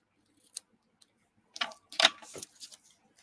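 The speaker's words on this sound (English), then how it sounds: "Let's trim these edges." Scissors snipping the edges of a laminated bookmark, a few sparse quiet clicks followed by a short cluster of sharper cuts close by in an otherwise quiet room.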